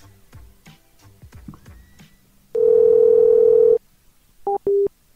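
A telephone dial tone sounds after a call has ended, coming as one steady, loud tone of about a second that breaks into two shorter beeps. Quiet speech and background noise come before it.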